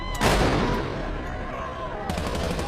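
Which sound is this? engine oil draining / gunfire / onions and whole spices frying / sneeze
gunfire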